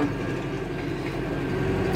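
A Massey Ferguson tractor engine, around 2010, rumbles steadily throughout, a continuous low droning with a faint mechanical whine, close and constant with no voices.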